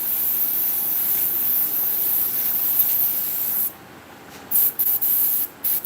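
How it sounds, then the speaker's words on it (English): Paasche airbrush spraying carburetor cleaner, a loud steady hiss that runs for several seconds, then cuts out and resumes in a few short bursts. "Carburetor cleaner, I'm going to shoot it right down into there, into the end of my airbrush."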